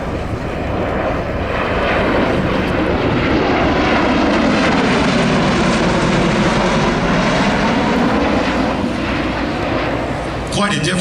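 A V-22 Osprey tiltrotor flies at the New York Airshow, a loud, continuous rotor and engine roar that holds steady and slowly shifts in pitch, with an announcer's voice over it.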